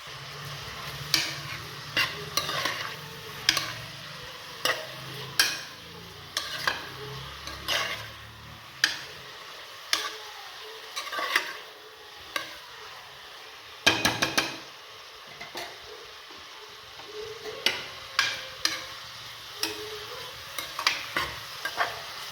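Onions and green chillies sautéing in a pan for chicken biryani, a soft continuous sizzle broken by regular clacks and scrapes of a spoon against the pan, close up with no speech.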